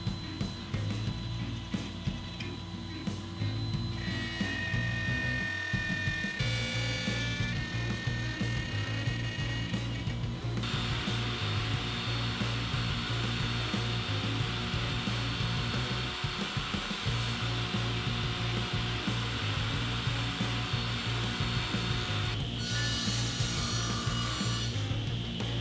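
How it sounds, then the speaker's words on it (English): A router at a woodworking table cuts a slot straight through the center of a wooden component, making a steady, loud, continuous motor whine with a high cutting tone that rises and shifts as the wood is fed, with no talk. "At the router table, I'm going to make a slot all the way through the center of this component"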